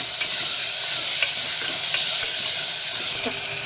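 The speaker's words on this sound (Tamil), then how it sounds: "தக்காளி போட்டுக்கலாம். நான் ஒரு தக்காளி நல்லா கொஞ்சம் பெரிய சைஸ் தக்காளி ஒரு தக்காளி போட்டுக்கலாம். அதையும் நல்லா வதக்கி விட்டுக்கலாம்." Tomato being sautéed with ginger garlic paste in a pan for potato kurma, a steady broad sizzle with a few soft scraping stirs, close and continuous, no talking.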